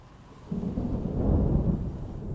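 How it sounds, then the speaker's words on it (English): Thunderstorm rolling in within the Fallout: New Vegas game world, a low deep rumble of thunder swelling up after a quiet start and lingering over steady wind-like background noise. "There's like a storm coming in now"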